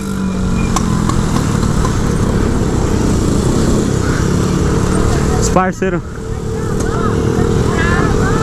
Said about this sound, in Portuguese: Os caras tá acelerando, tá ligado?